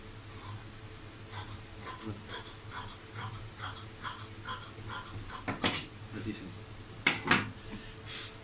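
Scissors cut through Punjabi dress fabric in a sequence of rhythmic snips, roughly one per second, with a few louder sharp clicks near the end.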